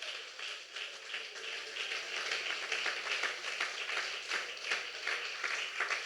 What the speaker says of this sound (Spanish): Dale fuerte ese aplauso al Señor Jesucristo.